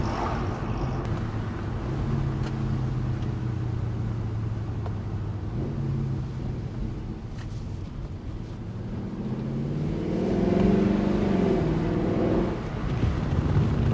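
A Mercedes C63 on a test drive gives a steady engine drone and road rumble from inside the cabin, with a deeper swell of revs near the end and no talk.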